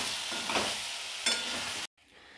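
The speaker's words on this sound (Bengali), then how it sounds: "এখন আগেরটাতে তেল ছেড়ে দিয়েছে আর এটা এভাবে ভালো করে মিশিয়ে কষিয়ে নেবো" Mutton stirred and fried in oil for a Bengali kosha curry gives a close, steady sizzle with scraping stir strokes, then stops abruptly, leaving faint quiet.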